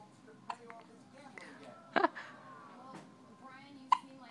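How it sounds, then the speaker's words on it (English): Baby hiccups, a few short abrupt hiccups spaced about a second or two apart, heard close and fairly faint under a quiet background of soft vocal sounds. "Baby has hiccups."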